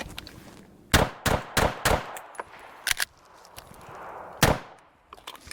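Pistol shots from a Zev OZ9 or Springfield XDM ring out during a shooting drill: a quick string of four sharp cracks, then two more spaced singles, loud and close with quiet pauses between.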